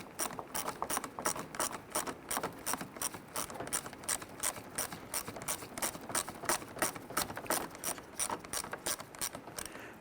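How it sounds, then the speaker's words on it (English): A ratchet snugs down a screw on a 1999-2004 Jeep Grand Cherokee headlight mounting panel, giving a quiet, fast, even string of clicking pawl strokes that continues steadily, with no voices. "let's go ahead and snug down that screw"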